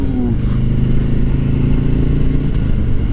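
Harley motorcycle cruising on a highway, its engine a steady, loud low rumble throughout with no pauses or notable revving.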